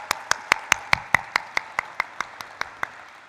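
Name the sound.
audience round of applause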